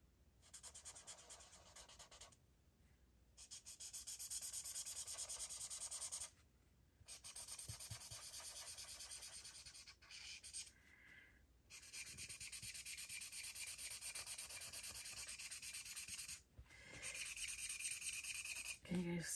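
A chisel-edged scraper rasps brown paint off a surface in long, close strokes, each harsh scraping pass lasting several seconds with short pauses between them.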